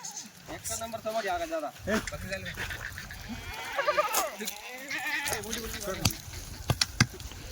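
Kathiawadi goats bleat several times in wavering, nasal calls, mixed with people talking nearby and a few sharp knocks toward the end.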